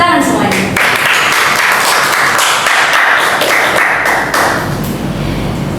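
An audience at a university student event applauds, a dense continuous wash of clapping lasting several seconds with voices mixed in.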